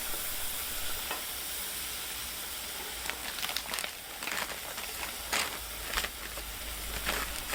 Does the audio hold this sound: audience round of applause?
no